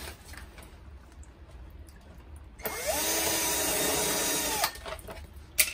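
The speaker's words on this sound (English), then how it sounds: "you can just drill the hole out with your hole saw" A power drill running a hole saw through a sump dome during a sump pump installation spins up sharply and cuts with a loud, steady whine for about two seconds, then stops, with quieter handling noise before and after.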